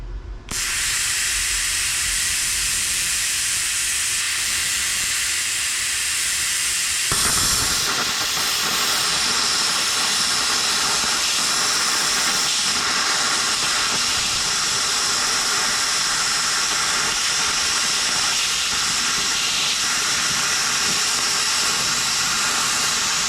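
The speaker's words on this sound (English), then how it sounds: "It makes it easier to cut with the plasma than to cut with a cutoff wheel trying to get curves" A cheap GZ Guozhi plasma cutter cuts curves in metal with a loud, steady, harsh hiss that keeps going for many seconds, close by and with no voices.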